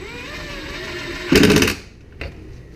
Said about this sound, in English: I'm using a impact hammer, which works out really well